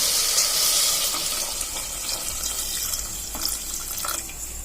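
Water pours steadily into tamarind for sambar with a splashy, hissing rush, close by and continuous, with a few small drips and clinks.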